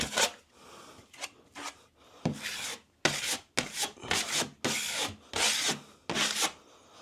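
Cornice cement is scraped off drywall with a hand scraper, producing a series of close, rasping strokes in an uneven rhythm, with longer, louder passes toward the end.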